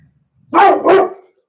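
A dog barks twice in quick succession, loud and close, with a short gap between the two barks, alone over near silence.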